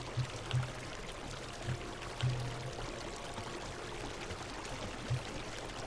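Underwater ambience in Minecraft with the player fully submerged: a faint, steady watery wash with soft low bubbling pulses recurring every second or so, no voices present.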